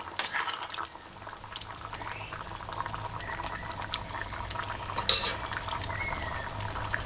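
A potato and coconut stew cooking on high flame, bubbling steadily and thickly close by while a utensil stirs the pot, bringing a couple of louder sloshing scrapes over the constant simmer.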